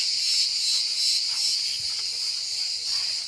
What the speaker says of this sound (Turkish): Şurada galiba Ağustos böceği var.